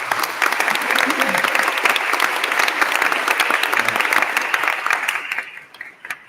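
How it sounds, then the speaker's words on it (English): Audience applause at a school board meeting, steady close clapping from a room of people that carries on for about five seconds before thinning out and stopping. "I think they deserve a round of applause just for the people they are"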